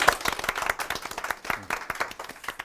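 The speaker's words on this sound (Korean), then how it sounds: "박수 부탁드리겠습니다." A studio audience at a Korean CEO talk show claps for the arriving guest, a dense burst of steady applause from a small crowd.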